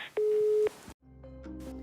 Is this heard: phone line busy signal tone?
yes